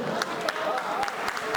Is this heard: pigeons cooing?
no